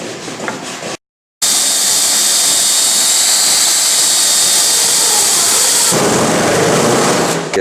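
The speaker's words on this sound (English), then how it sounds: "drill your 5/16 hole through on the drill press" A drill press roars steadily and loudly as it bores a 5/16-inch hole through a wooden plank, the whine continuing for several seconds after a brief silent gap.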